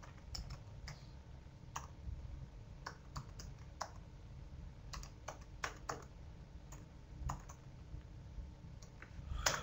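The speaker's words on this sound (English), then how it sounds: "I'll just type that URL for you" Someone types steadily on a computer keyboard, entering a web address. The soft keystrokes and clicks come in irregular bursts, fairly faint and close, with no voices.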